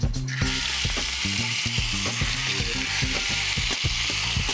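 Food fries in a hot pan on a television cooking-show set, a loud continuous sizzle with rhythmic clattering as a utensil stirs and scrapes through it, and no talking over it.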